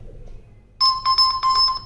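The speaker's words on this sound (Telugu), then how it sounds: "ఫోన్కి అయితే ఇలా వైబ్రేషన్స్ రింగ్ టోన్ అయితే వస్తుంది" Phone ringtone set off by the find-phone function of a OnePlus Band fitness tracker, starting abruptly after near-silence as a loud, repeating electronic melody of bright pulsing tones.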